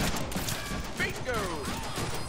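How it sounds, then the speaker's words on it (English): Gunfire from shooting in the Deadpool video game, rapid bursts running through dense game sound with tonal effects layered over it. "Just running in and shooting behind our back."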